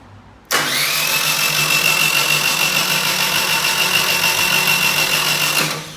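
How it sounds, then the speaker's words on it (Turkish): A car engine rebuilt after being run with the oil warning light on is started with the starter and catches abruptly, then holds a loud, steady, buzzing run for about five seconds before cutting off. "Şimdi sizlere de güzel bir görsel şölen yapmak adına marşa basacağız."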